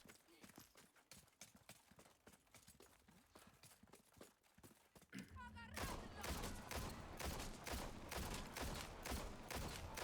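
Rapid handgun fire from the Matilda in the Resident Evil 4 Remake game, dozens of sharp close shots in a fast stream, then a dense burst of overlapping bangs amid clattering action noise.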